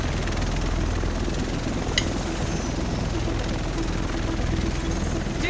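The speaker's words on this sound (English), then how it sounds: "The rest of us should be in this chopper." Helicopter arriving in the video game Tom Clancy's The Division, a loud steady rotor and engine roar with rhythmic low thumping that fills the scene throughout.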